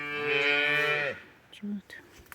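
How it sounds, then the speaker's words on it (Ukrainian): A calf on a farm lets out a long, loud moo that trails off, followed by a few faint, brief sounds. "ось тут бідні телятка кричать"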